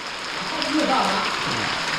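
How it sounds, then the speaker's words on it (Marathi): Heavy monsoon rain pouring down in a village during Ganesh Chaturthi, a dense steady hiss of falling water with a voice speaking over it. "पावसाचं कसं आहे माहिती आहे का रोज पडतोय रोज पडतो काय थांबतच नाही"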